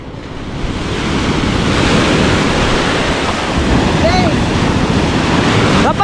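Ocean waves crash and roar loudly nearby, mixed with wind buffeting the microphone, while a person shouts briefly in Filipino over the surf as a fishing boat capsizes.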